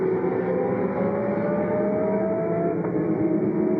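Sportscar race cars at Donington circuit during the 2001 FIA Sportscar Championship, heading down through the Craner curves: a loud, continuous engine roar with a steady high whine, no voices.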